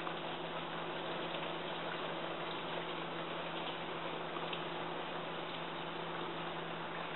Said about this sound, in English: if it sizzles and fries, it's pretty much ready to go